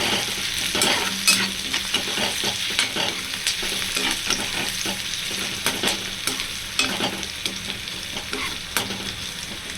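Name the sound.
onions frying and being stirred until brown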